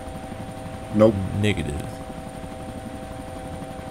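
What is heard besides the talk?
helicopter engine running in video game DayZ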